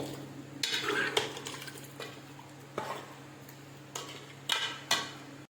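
A spoon scrapes and clinks against a metal pot in short, irregular strokes, stirring keema and karela with water, close by, over a low steady hum.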